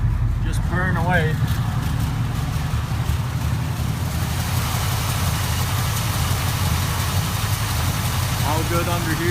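A Chevy 6.0 Vortec V8 swapped into an '86 Chevy truck idles steadily with a low, even rumble through a leaky exhaust, close by, with brief voices or squeaks at the start and end.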